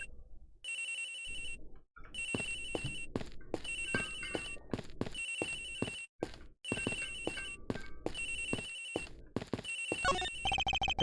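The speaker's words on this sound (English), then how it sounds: "Agent Hicks's phone! It's ringing from somewhere, sir." A phone ringing in the Ace Attorney Investigations video game, a bright electronic ringtone repeating in regular bursts with brief gaps, loud and alone over quiet game sounds.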